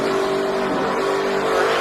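NASCAR stock cars racing at Richmond in 2011 give a loud, steady engine roar that holds one sustained droning pitch throughout, with no voices.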